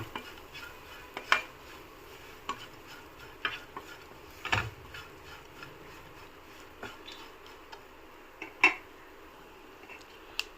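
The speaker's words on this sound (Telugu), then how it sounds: "కొంచెం ఒక 2 స్పూన్లు పప్పుల పొడి వేసుకుందాము. ఒకసారి మిక్స్ చేద్దాం." Spoon stirring lentil powder into tomato rasam in a pot, soft scraping and scattered metallic taps at irregular intervals, fairly quiet with a faint background simmer.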